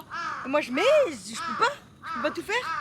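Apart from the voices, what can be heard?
crows cawing in Tokyo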